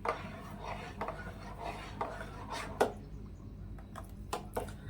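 A spoon scrapes and knocks in a bowl as ground tender coconut is mixed into a coconut ice cream base, with irregular soft rubbing strokes and a few sharper taps up close.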